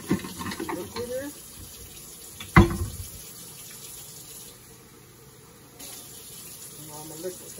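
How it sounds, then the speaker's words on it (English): Liquid poured into a cooking pan while a chicken quesadilla cooks, a soft, steady watery pour and splash with one sharp clank partway through, fairly close and moderately loud. "I'm going to add a little bit of liquid, so it can cook in a little more"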